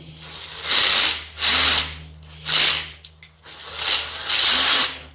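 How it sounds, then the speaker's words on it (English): An impact driver drilling holes in the rear fairing of a 1996 Honda CBR 900RR motorcycle: loud rattling hammer bursts, about five in a row with short pauses between, close and alone. "Guess that's why you don't use an impact driver, huh? To drill holes."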